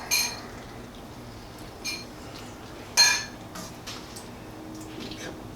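Shrimp alfredo plated with tongs, giving a few sparse, light clinks of utensils against dishes over a quiet kitchen background, with one sharper clatter near the middle.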